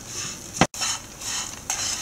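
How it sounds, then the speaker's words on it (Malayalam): Green chillies and spices roasting in a pan for a Kerala fish curry, with a steady soft sizzle and scraping spoon strokes, one sharp clatter near the start, close and alone with no talk. "അതും കൂടെ കരിയാതെ നല്ലപോലെ വറുത്തെടുക്കുക"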